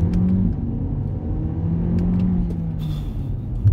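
An Audi A3 Sportback pulls away from a green light in Tokyo traffic. A steady, rumbling engine note builds as it accelerates, heard from inside the car with no talking.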